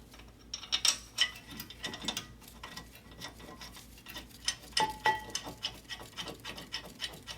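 A ratchet turns the caliper bracket bolts on a Toyota Highlander during front brake work, giving quiet, uneven runs of clicking with small metallic ticks and clanks. There are pauses between the bursts.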